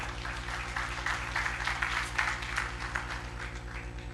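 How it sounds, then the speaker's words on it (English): Audience applause at a college entrepreneurship summit, a steady wash of many hands clapping at moderate distance, continuous for several seconds over a low steady hum. "Okay, an applause."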